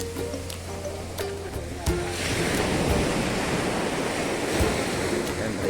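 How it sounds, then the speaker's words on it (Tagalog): Large ocean waves break and roll onshore at an angler's fishing spot near Lingayen, a steady loud surf wash that swells after a few seconds, with wind buffeting the microphone. "laki ng alon ngayon"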